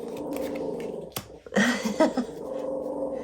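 A house dog lets out a low rumbling growl, then a sharp snap and a short burst of barking close by, the growl continuing faintly afterward with no speech over it.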